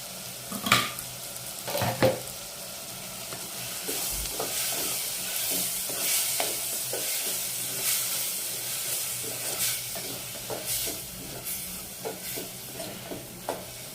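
Ginger garlic paste frying in a clay pot for mutton gravy curry, a low steady sizzle with intermittent stirring scrapes and occasional knocks of a utensil against the pot, near and without speech.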